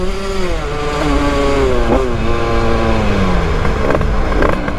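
A 100cc 2Fast two-stroke motorcycle rated at 35 horsepower screams up through its revs, loud and close, with rising and falling engine whine through repeated accelerations and gear changes, no talking.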